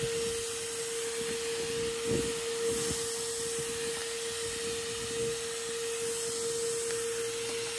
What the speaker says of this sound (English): So let's just see what the blow function's like.